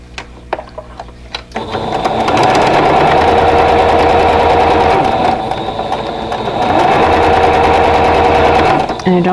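A sewing machine stitches a vintage Carolina Lily quilt block in two long, steady runs close by, after a few soft handling clicks at the start; a brief pause separates the runs.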